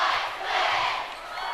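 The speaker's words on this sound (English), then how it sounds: "Now the Dons crowd is making some noise here" A home crowd cheers and roars at a high school basketball game, a dense sustained wash of voices rising and falling over about a second and a half.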